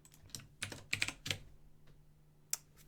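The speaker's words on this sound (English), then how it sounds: "I keep typing the wrong thing." Keys clatter on a computer keyboard in short irregular bursts, a cluster of quick clicks followed by a pause and one last tap, fairly close and moderately quiet.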